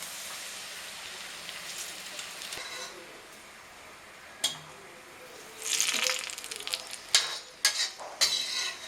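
Tempered onion and curry leaves poured into a Kerala-style chickpea curry, with a soft frying hiss early on, then several sharp, loud sizzling bursts as the hot seasoning hits the liquid.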